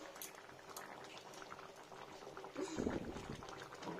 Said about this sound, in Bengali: কাঁচা পোস্তটা একটু ফুটে যাবে